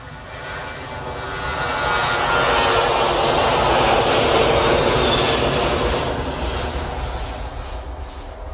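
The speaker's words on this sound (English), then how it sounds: "Ryanair's coming down to take off to Lanzarote, Boeing 737. Making a bit of racket as usual." A Ryanair Boeing 737 takes off for Lanzarote from Manchester, its jet engine roar swelling loud and broad, peaking mid-way, then slowly easing as it climbs away, with no talk over it.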